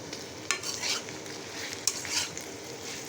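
Elephant apple (chalta) pickle fries in a pan, with a soft, steady sizzle and a couple of sharp stirring knocks against the pan, all fairly faint.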